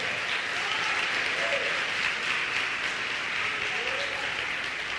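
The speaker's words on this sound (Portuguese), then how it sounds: "Aplauda o Senhor." Church congregation applauding, a dense, continuous clatter of many hands clapping for the whole stretch at moderate loudness.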